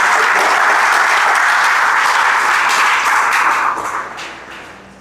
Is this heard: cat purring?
no